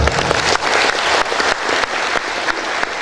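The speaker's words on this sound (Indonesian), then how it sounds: "Bolehlah tepuk tangan ya." An audience at a university graduation ceremony claps steadily and fairly loudly for a few seconds, a dense, even wash of applause.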